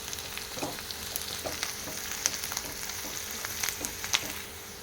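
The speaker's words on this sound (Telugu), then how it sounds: "కాకరకాయ ముక్కలు, ఆనియన్ ముక్కలు ఇలా బాగా ఫ్రై చేసుకున్న తర్వాత కొద్దిగా పసుపు వేసుకుందాం" Bitter gourd and onion pieces frying in a pan: a continuous soft sizzle with scattered crackles and pops, steady and close, with no talking.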